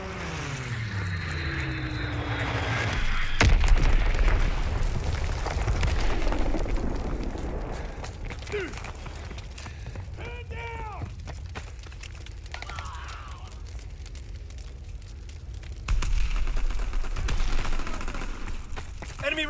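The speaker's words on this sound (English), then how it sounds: "Enemy strafing run inbound." An enemy aircraft strafing run in Call of Duty WW2 on PC, loud bursts of rapid gunfire and impacts with an engine roar sweeping over a noisy battlefield, a sharp crack near the start and renewed firing later.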